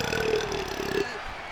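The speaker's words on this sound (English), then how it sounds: "I got a burp. Excuse me." A man lets out a long, low, croaking burp after eating a Costco hot dog, heard close and then cut off abruptly, followed by near silence.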